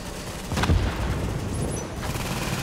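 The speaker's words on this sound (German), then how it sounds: "Doch, ich will einen ersten Schuss machen." Gunfire in the video game The Division, a sharp loud burst of shots near the start followed by a rumbling, noisy game soundscape with a faint second burst toward the end.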